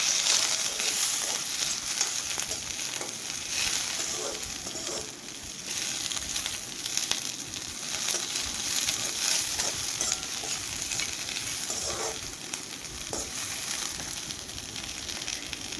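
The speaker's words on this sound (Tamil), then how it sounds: "போட்டு ஒரு 2 நிமிஷம் நல்லா வதக்கி விடுங்க." Thoothuvalai leaves sautéed in a pan for soup, with a continuous bright sizzle and frying crackle plus occasional stirring scrapes, close up and without talk.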